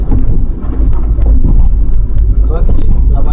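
An old, worn-out car running while being driven, a loud steady low engine rumble filling the cabin, with a few faint clicks and rattles over it.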